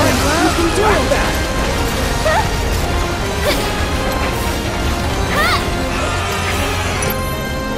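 Repeated glass smashing and crashing impacts in the Final Fantasy VII Remake Hell House boss fight at the Coliseum, loud bursts over dense battle noise and music, with talk heard throughout.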